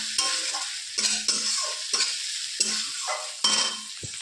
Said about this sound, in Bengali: এই যে ভালো করে নেড়ে চেড়ে নিচ্ছি চিংড়ি মাছটাকে পেঁয়াজের সঙ্গে।